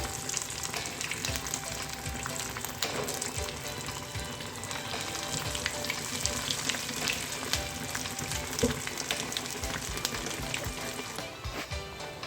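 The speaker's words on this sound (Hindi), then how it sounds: "अब मैं बाकी के पैटिस भी इसी तरीके से फ्राई करूँगी।" Beef keema bread patties fry in a pan with a steady, dense sizzle that runs the whole time, close and even, with occasional small crackles and no voices.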